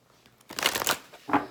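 Tarot cards being shuffled during a spiritual reading, a brief riffling burst of papery flutters followed by a short second shuffle, fairly close and alone with no talk.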